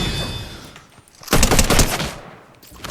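Typhoon Sword attack in the video game Unreal: a dense burst of rapid, loud percussive hits swells up in the middle, dropping back to lower gameplay noise on either side.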